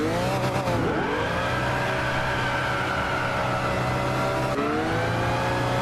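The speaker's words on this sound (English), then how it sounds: "I imagine there will be a burnout just because of the rain" A loud, sustained race car engine roar in Gran Turismo 6 with rising pitch sweeps as the tires spin in a burnout on a wet track, steady throughout with no talking.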